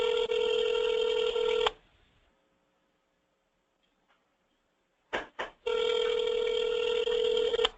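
A telephone call placed by voice command through a virtual assistant rings out as loud tonal ringback bursts, one long burst, a silent gap with two brief pulses, then another sustained burst.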